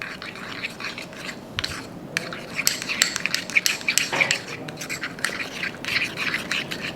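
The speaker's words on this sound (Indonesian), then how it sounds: "terus kita aduk saja" A spoon stirs a butter and minced garlic mixture in a bowl, giving a run of close, scraping clinks and rubbing strokes that build in density over several seconds with no talk.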